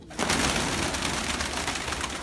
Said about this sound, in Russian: Что за порода эти голуби?